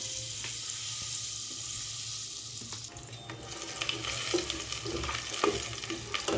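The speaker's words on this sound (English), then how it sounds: "Let's go in with our red oil." Red palm oil poured into a hot pan as the base for a local sauce, giving a steady broadband hiss with scattered clicks and sizzle that grows slightly louder toward the end, with no talking.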